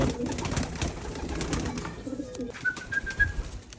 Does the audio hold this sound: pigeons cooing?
yes